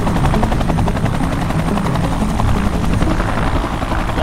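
A helicopter flies toward a landing at a base camp near a no-fly zone, its loud, steady rotor chop and engine drone filling the whole stretch without a break.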